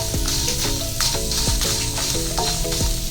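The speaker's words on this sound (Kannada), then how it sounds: "ಸ್ವಲ್ಪ ಫ್ರೈ ಆಗಲಿ ಬಿಡಿ" Coriander seeds, cumin and tamarind dry-fry in a pan, giving a steady, close crackling sizzle that runs unbroken over soft background music.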